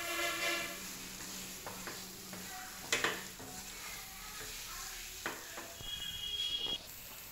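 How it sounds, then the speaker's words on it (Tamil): A spoon stirs fried cashews and almonds into thick dates halwa in a pan, giving a soft scraping, sizzling texture with a few sharper clinks against the pan, close and fairly quiet, with no talking. "அதையும் போட்டு நல்லா மிக்ஸ் பண்ணுங்கள்."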